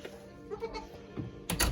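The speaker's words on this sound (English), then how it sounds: "What's wrong with that goat?" A goat bleats in short, nasal cries close by, with a louder burst at the end, amid faint voices and background noise.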